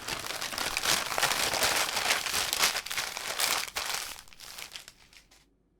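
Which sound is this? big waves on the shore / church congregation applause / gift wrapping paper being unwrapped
gift wrapping paper being unwrapped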